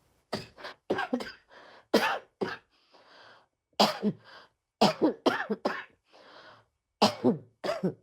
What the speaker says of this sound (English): Don't worry about my cough.